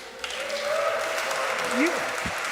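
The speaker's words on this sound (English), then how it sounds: "You have no idea what you're clapping for" An audience applauds at a choir concert just before the world premiere of a setting of a St. Francis canticle, with steady clapping filling the hall while a voice speaks over it.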